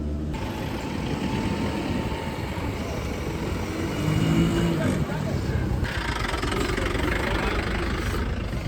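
An auto rickshaw engine drones steadily and loudly up close while driving on the Rickshaw Run near Gangtok toward the Chinese border, with a low rumble throughout and muffled voices over it.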